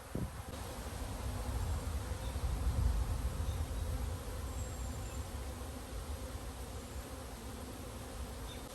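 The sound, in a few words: honeybees buzzing from an opened hive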